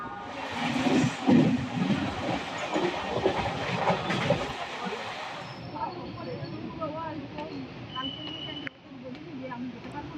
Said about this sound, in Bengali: একদম ডট 6টা 5-এই আমাদের ট্রেন ছাড়লো হাওড়া থেকে